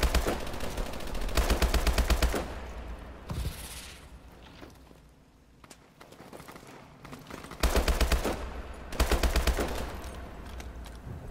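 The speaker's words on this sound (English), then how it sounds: "Mitchell, take the shot" Automatic gunfire in Call of Duty Advanced Warfare: several loud bursts of rapid machine-gun fire separated by quieter gaps, with faint movement sounds between volleys.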